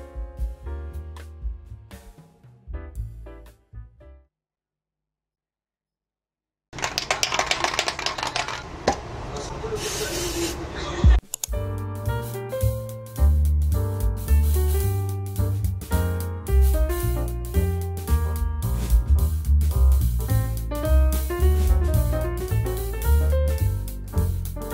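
A can of white spray paint is used on a stainless steel shampoo organizer, giving a steady aerosol hiss that lasts about four seconds, set between stretches of music.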